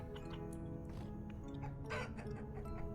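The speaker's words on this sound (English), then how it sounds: "And there's our hen." Hen clucking in the Vintage Story game, a few short, close clucks in a steady rhythm over a constant low ambient hum, with no voices.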